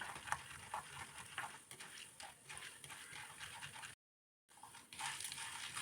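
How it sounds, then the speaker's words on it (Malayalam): Washed, dried urad dal fries in hot oil while being stirred, a quiet sizzle broken by soft clinks and scrapes of the spoon, with a brief drop to silence before the frying resumes. "ഉഴുന്ന് കളറും മാറി മൂത്ത് വരുന്നിടം വരെ ഇളക്കി കൊടുക്കാം"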